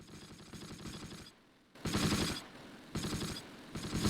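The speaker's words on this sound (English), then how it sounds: "We're under heavy fire." Heavy gunfire rattles through a Close Combat battle, with bursts of rapid machine-gun fire broken by a short lull and then loud returning volleys.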